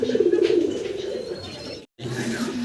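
A pigeon coos in low, throaty repeated phrases, close by, with a brief silence near the end before the cooing resumes.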